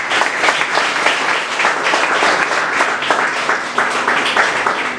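Congregation applauding during a Spanish-language church sermon, a dense, steady wash of many hands clapping at once, loud and sustained for the whole stretch with no break.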